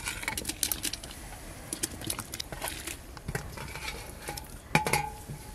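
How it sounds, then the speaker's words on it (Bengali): Fried vegetables go into a pot of half-cooked rice and lentil khichuri, with close clinks and scrapes of a metal spoon against the pot in irregular bursts over a faint sizzle, with no talking. "এবার ভেজে রাখা সবজি দেব"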